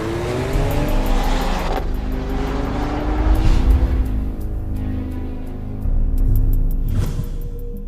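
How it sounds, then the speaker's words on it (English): A 2014 Mercedes-Benz CLA45 AMG with its turbocharged four-cylinder and all-wheel drive accelerates hard, its engine note climbing through gear changes with a loud, sustained rasp, a brief dip mid-run, then surging again near the end. "With so much torque on tap and Ford-driven contact patches, the 45 accelerates impressively."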